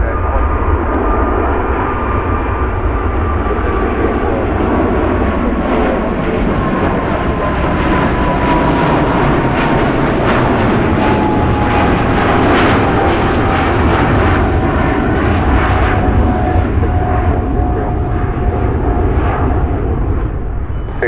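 A loud, sustained jet engine roar of a heavy jet departing Chicago O'Hare fills the whole stretch, steady and powerful with a slowly falling whine as the aircraft climbs away.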